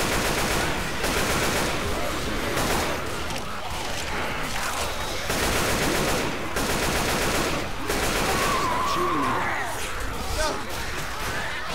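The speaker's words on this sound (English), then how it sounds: "Can we not shoot each other" Rapid bursts of Left 4 Dead 2 gunfire rattle loudly and almost continuously, with automatic volleys and single cracks layered under players talking over one another.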